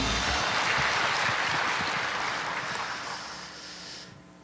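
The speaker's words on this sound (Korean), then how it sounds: "우리 박수로 하나님께 영광 돌립니다." A church congregation applauds together in praise during a worship service, a dense, steady wash of clapping that fills the room, then thins and fades away in the last half second.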